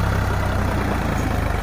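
A Sonalika DI 745 Sikander tractor, a 2020 model, runs with a plough, its heavy diesel engine thumping in a fast steady low pulse, loud and close, with no voices.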